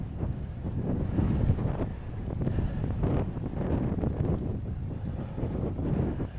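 Steady broadband wind rush buffeting the microphone while cycling into a headwind on a paved rail trail, continuous and fairly loud with no talking.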